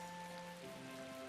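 Steady rain falls in the video game Tales of Vesperia, a soft, even patter heard under sustained musical tones, with no talking.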